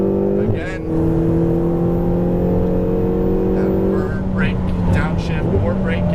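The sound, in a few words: Ferrari 488 GTB engine accelerating on track after upshift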